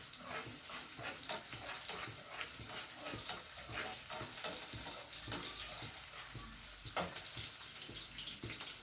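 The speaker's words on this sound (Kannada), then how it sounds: "ಮೇಲೆ ಸ್ವಲ್ಪ ಎಣ್ಣೆ ಫ್ರೈ ಮಾಡ್ಕೊಳ್ಳೋಣ ಚೆನ್ನಾಗಿ" Oil sizzles in a pan on a home stove, with rhythmic spatula scrapes and stirring knocks repeating throughout at a moderate, close level.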